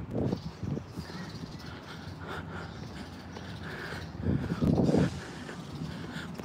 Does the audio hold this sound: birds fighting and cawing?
yes